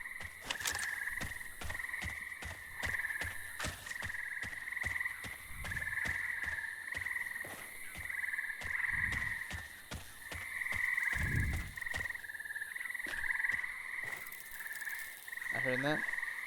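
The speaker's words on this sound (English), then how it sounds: "Giant fucking cricket." Giant cricket in the game Project Silverfish chirping in a steady, pulsing trill that runs on and on at moderate volume, with scattered low thumps underneath and no talk.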